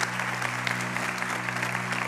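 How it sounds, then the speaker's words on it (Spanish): A church congregation applauding during a sermon, a dense continuous clapping that holds steady for two seconds with a low hum beneath. "dale más fuertes aplausos al Señor"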